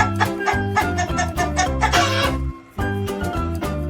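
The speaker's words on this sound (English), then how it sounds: "It's a rooster." Clucking from a rooster comes as a steady run of loud, close, rhythmic clucks, with a short pause near the end before the clucking resumes.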